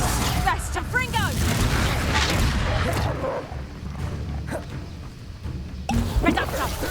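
Confringo fire-blast spell explosions in Hogwarts Legacy crack and boom in a rapid cluster under excited talking, followed by a quieter stretch of scattered impacts before the voice returns.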